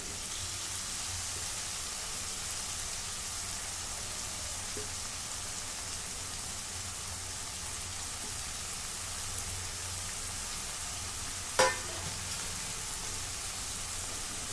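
Washed dried fish (sukat) hits a pan of frying tomato, and a steady, hissing sizzle holds evenly throughout, with one sharp clink near the end.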